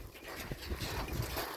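Dogs pant on a beach in short, close breaths, fairly faint beneath a wash of wind and surf noise, with a brief louder burst at the very end.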